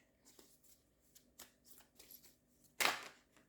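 Tarot cards shuffled and drawn from a deck: a few soft close riffles and slides, ending in one louder, sharp shuffle burst, quiet overall with no talk.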